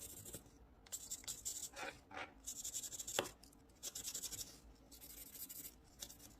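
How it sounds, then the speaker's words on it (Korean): Colored pencil or marker rubbing back and forth on folded paper while green is filled in on a paper flexagon craft, a soft close scratching in bursts with short pauses. "밖에 초록색을 칠해줍니다"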